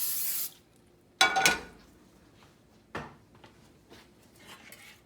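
A crepe pan gets a short hiss of cooking spray, then a clatter and a softer knock follow, against a quiet kitchen background.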